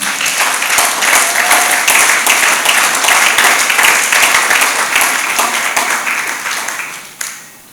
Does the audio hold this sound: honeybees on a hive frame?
no